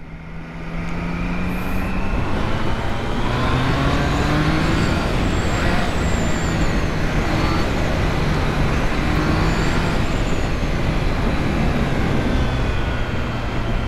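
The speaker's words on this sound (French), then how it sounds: "La sonorité du pot d'échappement est discrète." Triumph Trident 660 motorcycle (2025, A2 version) on its stock exhaust, running steadily with a subdued, even engine note under continuous road and wind noise for the whole stretch, no talking.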